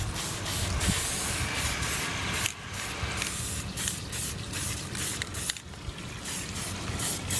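An aerosol can lays a light first coat of primer on a razor pocket mod bike frame being turned into a chopper, giving close, loud hissing sprays in long bursts separated by brief pauses.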